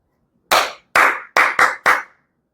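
Five sharp hand claps close by in a quick 2-3 rhythm, two spaced claps followed by three faster ones, used as a counting game in a children's math lesson.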